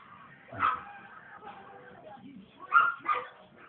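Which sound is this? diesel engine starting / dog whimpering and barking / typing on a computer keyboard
dog whimpering and barking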